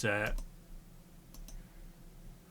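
A mouse clicks the slice button in 3D printing software while a badge print is being prepared: a couple of light, close clicks follow a brief burst of speech at the start.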